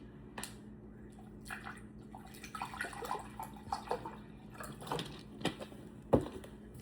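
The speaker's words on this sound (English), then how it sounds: "And I'm going to add my water to that." Water poured into a mix of strawberry and grape fruit punch drink flavors, soft trickling and splashing in uneven bursts with a brief louder splash near the end, quiet and close.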